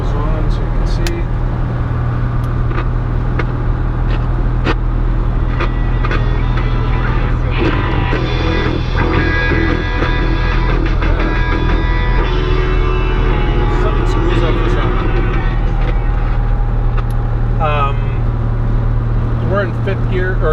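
A 1970 Jaguar E-Type 4.2 Roadster Series II drives along in fourth gear at about 50 mph, its engine a loud steady drone with wind noise throughout, while someone talks over it.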